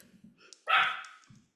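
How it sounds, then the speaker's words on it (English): A dog lets out one sharp, fairly loud bark after a few soft whimpering sounds, and then it goes quiet. "All right, dogs are going out."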